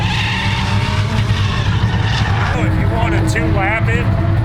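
A drift car on a solo run at Freedom Factory's drift night squeals its tires in wavering, pitch-bending howls over a loud engine drone, while someone talks close by throughout.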